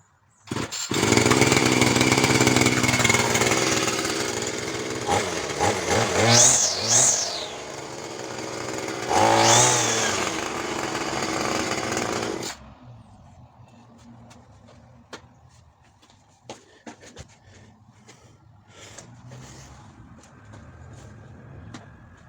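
A brush cutter engine starts and runs loud and steady for about twelve seconds, its pitch surging as the throttle is blipped, then cuts off abruptly, leaving faint clicks and handling noises.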